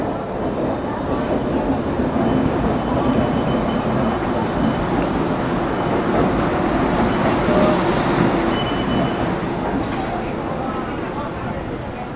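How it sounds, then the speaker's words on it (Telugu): The Danapur–Secunderabad Superfast Express, hauled by a South Central Railway Lalaguda WAP-7 electric locomotive, rumbles steadily along with a dense rolling roar and faint clacking of wheels, continuous and fairly loud throughout. "సో లోకో వచ్చి south central railway Lalaguda BAP 7 locomotive"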